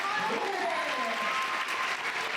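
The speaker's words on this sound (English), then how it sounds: "We're going to give a round of applause to our special guest, Mr. Nick Allard." A school assembly crowd applauds a special guest, with steady, dense clapping that fills the whole stretch at moderate level, mixed with a light murmur of voices.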